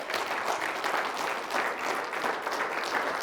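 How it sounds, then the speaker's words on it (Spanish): A church congregation applauding during a sermon, loud, steady clapping from many people in a reverberant hall, with a slightly pulsing rhythm and no talk over it. "dale fuerte ese aplauso al que vive"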